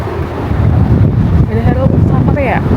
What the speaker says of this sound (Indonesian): Pagi semuanya, cuacanya berangin banget.